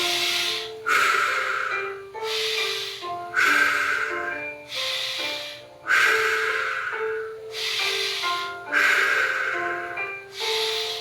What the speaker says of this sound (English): And then back breathing.